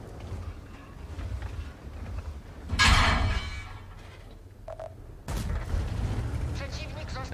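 Tank cannon fire in World of Tanks, a sharp boom near the three-second mark with a rumbling tail, then another heavy blast a couple of seconds later over constant engine drone and battle ambience.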